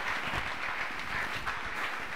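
A church congregation at a service led by Pastor Faustin Ngoie Simbi applauds and cheers as a dense, steady wash of clapping, faint and somewhat distant, lasting throughout.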